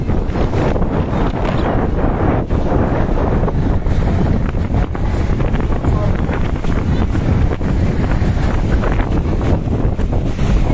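Rough, high-tide sea at Digha surges loudly and continuously, with strong wind buffeting the microphone throughout in a dense, roaring wash.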